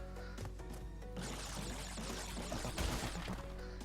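A waterfall in the Crash Bandicoot 2 video game gives a steady, rushing wash of falling water, continuous and fairly close, swelling slightly near the end.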